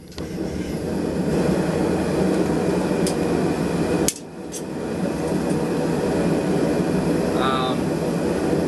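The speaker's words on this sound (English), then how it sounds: "I'm going to place it in the forge, turn it up a little bit, and heat that end up." A forge burner heating a round steel rod gives off a steady, close roar that builds at the start, dips briefly midway, then carries on evenly.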